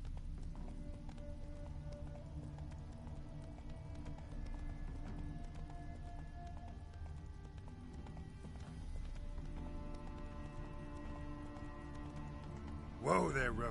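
Horse hooves clip-clop in a steady trotting rhythm in the video game The Witcher 3, fairly quiet, with a low background hum and a brief louder burst at the end.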